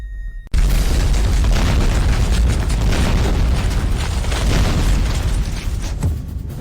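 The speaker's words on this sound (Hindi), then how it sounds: "तभी यह ताबूत सीधे धमाके से फट गया।" A coffin bursts apart in a blast: a sudden loud boom after a moment of quiet, followed by several seconds of heavy, roaring rumble that slowly eases.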